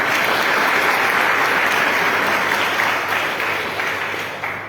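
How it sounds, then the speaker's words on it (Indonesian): Loud, dense applause fills a church during a wedding blessing ceremony, a steady wash of many hands clapping that holds strong throughout and fades slightly near the end. "Berikan tepuk tangan."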